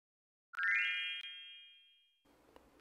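A single clear electronic beep from a Sinocare smart bathroom scale, a bright sustained tone that rings for over a second and slowly fades, followed by quiet room noise.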